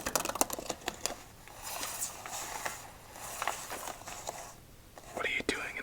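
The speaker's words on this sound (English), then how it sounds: "let's wrap this up with a casino shuffle." Disney 100 playing cards riffled in a casino shuffle, a few quick crisp bursts of card flutter and soft tapping, close and quiet, with a whisper in between.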